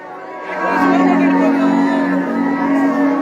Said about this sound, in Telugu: కేకలు వేసి మొదలుపెట్టండి